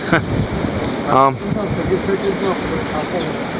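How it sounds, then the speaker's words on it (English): Wind blowing outdoors at a structural work site, a steady rushing roar buffeting the microphone, with a voice talking briefly over it. "Pretty windy out here today"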